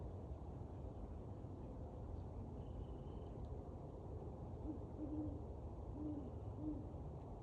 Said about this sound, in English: We're listening for the owl.